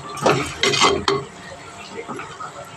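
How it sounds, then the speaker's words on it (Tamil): Salted palak spinach greens are stirred in a cooking pan: a few quick, loud scraping strokes up close, then a quieter low sizzle with faint knocks. "உப்பு போட்டு ஒரு கிளறு கிளறி கொடுத்துக்குவோம்"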